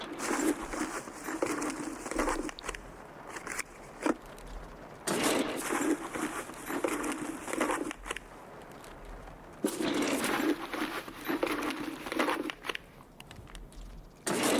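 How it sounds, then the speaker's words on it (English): Rain patters loudly and steadily in a video game raid, broken by short lulls and a few clicks. "Oh, it stopped raining."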